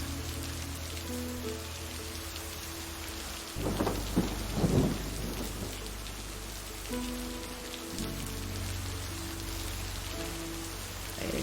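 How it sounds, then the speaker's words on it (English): A thunderstorm at a lake brings steady heavy rain with a deep rolling thunder rumble swelling in the middle, close and continuous, with no voices. "This thunderstorm is gonna ASMR me."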